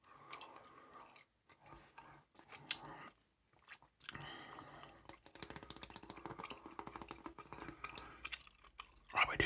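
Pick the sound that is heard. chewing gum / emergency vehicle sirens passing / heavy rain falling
chewing gum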